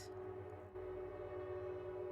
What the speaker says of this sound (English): Sorry for the train if y'all can hear it.